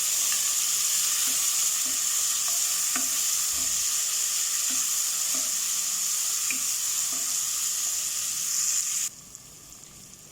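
Rice frying with ginger garlic paste in a pan for methi pulao, giving a loud, steady, close sizzle with faint rhythmic scraping from stirring, cutting to much quieter near the end, with no talking.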